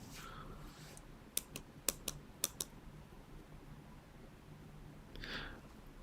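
A handful of quick, faint keystrokes tap on a computer keyboard in a short cluster, then give way to quiet room tone.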